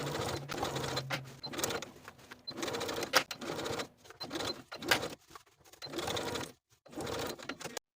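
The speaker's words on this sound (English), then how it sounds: "we're going to continue stitching across through that one layer of the collar" A home sewing machine stitches through one layer of a vest collar in several bursts of rapid whirring, separated by brief pauses and clicks, close and clear with no voices.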